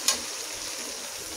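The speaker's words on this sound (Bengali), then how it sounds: "এখন পেঁয়াজটা ব্রাউন কালার না হওয়া পর্যন্ত ভালোভাবে ভেজে নিব।" Sliced onions frying in a pan for pulao give a steady soft sizzle, with a short sharp crackle at the start, even and close.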